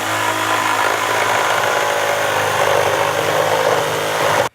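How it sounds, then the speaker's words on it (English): A power saw cuts steadily through an exterior house wall, loud and close, a continuous buzzing whine that runs unbroken for several seconds before stopping abruptly. "cutting along that line to remove the"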